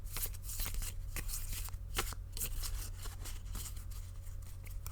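Tarot and oracle cards are shuffled by hand in a series of quick, crisp riffles and soft slaps, close and fairly quiet, with no voice over them.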